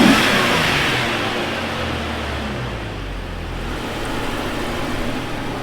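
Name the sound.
car engine revving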